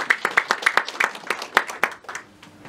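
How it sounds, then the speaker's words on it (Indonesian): Audience at a training event claps in distinct, rhythmic bursts, sharp individual hand claps close and fairly loud, thinning out and fading toward the end. "luar biasa, tepuk tangan untuk Anda ya."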